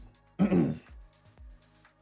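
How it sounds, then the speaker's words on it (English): A single rough throat-clearing cough, close and fairly loud, followed by a few faint short throat sounds and breaths in a quiet room, with no talking. "Just before I have a coughing fit."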